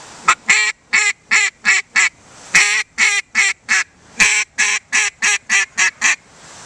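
A duck call blown to imitate a single duck gives a loud, close run of about sixteen sharp, nasal quacks in a steady rhythm, with brief gaps between them and no talking.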